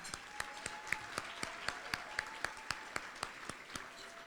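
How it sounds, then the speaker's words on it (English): Audience applause at the American Arab Chamber of Commerce annual gala, a steady wash of many hands clapping with sharper individual claps standing out in a regular rhythm, moderately near and continuous throughout. "Please help me in acknowledging Sarah Juni and Tommy Berry by giving them a round of applause."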